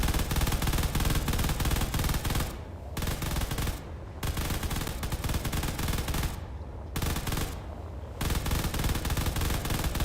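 Dense, continuous gunfire and artillery bursts from mech combat in the Space Engineers game, loud rapid volleys broken by two brief pauses, with no talk.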